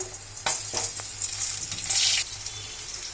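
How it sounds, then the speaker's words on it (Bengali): Potatoes fry in hot oil in a pan for a Bengali vegetable and tangra fish curry, a steady bright sizzle with a few sharp crackling bursts and stirring scrapes, close and loud, no talk. "এবার আমি ওই গরম তেলে আলু গুলো আগে একটু ভেজে নিচ্ছি"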